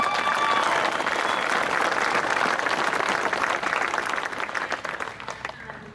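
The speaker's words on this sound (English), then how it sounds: "Please give Erica Rios a round of applause" Crowd applause at a veterans memorial ride opening ceremony, dense steady clapping that holds for several seconds and then thins and fades toward the end.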